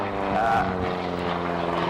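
A Bulldog trainer aircraft drones past low and slow in a close-in aerobatic display, its steady propeller engine hum loud and continuous throughout.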